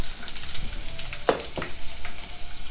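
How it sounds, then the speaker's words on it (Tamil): Ginger and garlic sautéing with spices in a kadai, a steady close crackling sizzle with a couple of sharper pops and stirring scrapes. "இப்போ இதை நல்லா வதக்கிக்கலாம்."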